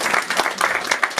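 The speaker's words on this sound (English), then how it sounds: "Round of applause for Alex." Audience applause for a volunteer called to the stage at a marketing meetup keynote, a brief burst of dense, close clapping with no talk.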